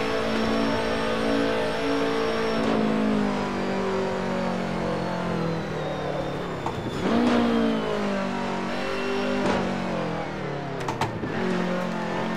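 Racing car engine in Assetto Corsa revs loud and steady, with rising and falling pitch through gear changes and brief dips where the driver shifts.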